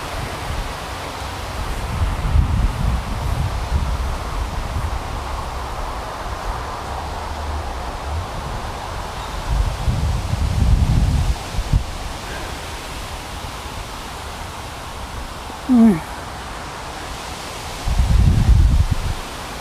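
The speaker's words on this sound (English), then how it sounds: "when the wind is blowing hard enough that you see the underside of the leaves" Wind blowing hard through trees in a cemetery, a steady broad rush of rustling leaves that swells in stronger gusts every few seconds, with a faint short chirp partway through.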